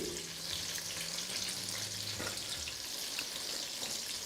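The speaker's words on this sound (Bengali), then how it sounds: "আর বেগুনটা যতক্ষণ ফ্রাই হচ্ছে এপাশে দেখুন" Eggplant frying in a pan gives off a soft, continuous sizzle with a watery hiss, fairly quiet and steady throughout, with no talking.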